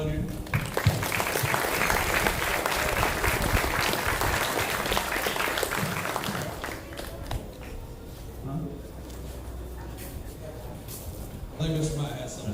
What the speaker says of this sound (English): we want to give the workers a big round of applause